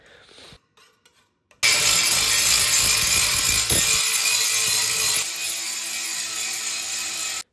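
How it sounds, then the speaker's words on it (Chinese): An angle grinder grinds leftover structural adhesive off a countertop where an old sink basin was removed: a loud, steady, harsh abrasive roar starts after a quiet moment and runs continuously to the end. "先用角磨机呢把这些残胶全部都打磨出来"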